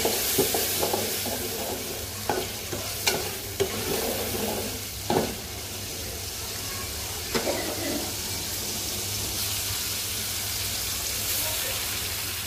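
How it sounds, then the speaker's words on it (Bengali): Potatoes and spices sauté in a pan with a continuous close sizzle, broken by a few sharp scrapes and knocks of stirring early on. "আলুটা দিয়ে ভালো করে কষাবো"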